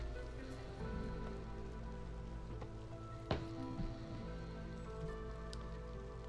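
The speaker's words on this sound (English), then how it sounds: "We're gonna have a bit of a short drizzle" A light drizzle patters softly in the video game Against the Storm, a faint steady hiss of rain under sustained background music tones, with one small sharp tick partway through.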